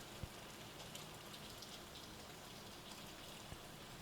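Rain falls steadily outdoors as a faint, even hiss, with an occasional single drop tapping out a little louder against the soft wash.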